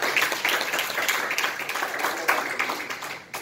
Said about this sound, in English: I'll give the Lord a hand clap here.